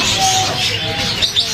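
Many caged pet birds chatter at the bird market in Souq Waqif, Doha, a dense, continuous mix of chirps, tweets and coos close by with a few sharper calls near the end.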